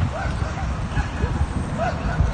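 Small dogs yip and whimper repeatedly in the background amid a busy, muffled outdoor scene with voices.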